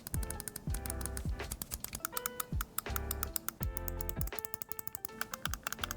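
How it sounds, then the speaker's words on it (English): Clicky buttons on an Xbox Elite Series 2 controller pressed in quick succession, crisp sharp clicks in irregular rapid runs, close and dry. "all the buttons have this super satisfying clicky input like the other controllers' triggers"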